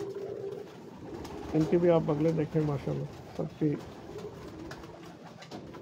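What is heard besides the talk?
pigeons cooing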